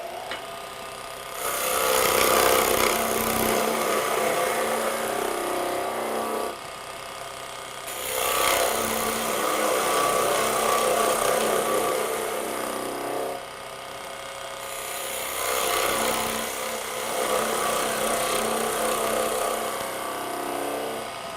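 A TurnMaster cutter shear-scrapes spinning wood on a lathe, producing a loud, close rasping hiss in three long passes of several seconds each, separated by brief quieter gaps with the lathe running.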